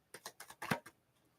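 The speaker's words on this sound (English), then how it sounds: "I am shuffling here the traditional Rider-Waite" Traditional Rider-Waite tarot cards are shuffled by hand in a quiet room, with a quick run of about six soft papery taps and slaps, close and gentle, then fading to near silence.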